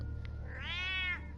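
A cat gives a single clear, drawn-out meow, close and fairly quiet over a low background hum.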